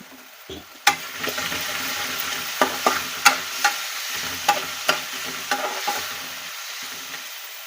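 Turmeric and salt fry in a pan for a citrus tamarind-style rice dish, a soft steady sizzle broken by about a dozen sharp scraping clicks of a spoon stirring against the pan.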